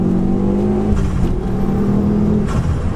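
A Stage 2 Ford Focus ST engine revs hard in second gear and climbs in pitch as the car accelerates, heard from inside with a continuous droning roar.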